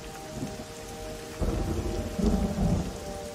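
Steady rainfall with rumbling thunder in the Namibian desert, the downpour swelling louder partway through, no voices present.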